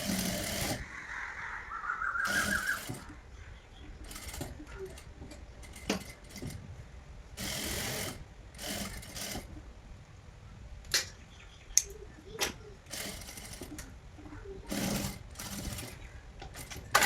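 A sewing machine stitches down the folded neckline edge of a crop top in several short, close bursts separated by pauses, with light clicks and handling noises in between and no talking.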